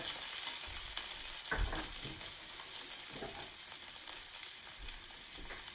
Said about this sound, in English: Take our chopped mushrooms, throw them in.